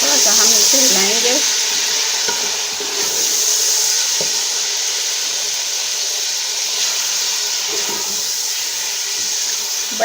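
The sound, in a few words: chicken and mixed vegetables frying and being stirred in pan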